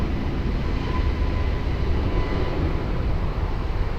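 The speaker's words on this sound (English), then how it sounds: "Airbus 321 rolling" An Airbus A321 jet rolling for takeoff at Lisbon Airport makes a continuous broad engine roar, loud and unbroken with a deep rumble, and no speech is heard.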